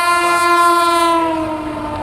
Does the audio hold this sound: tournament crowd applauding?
no